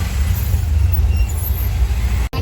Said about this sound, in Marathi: गावची गाडी जाते. ट्रॅफिक.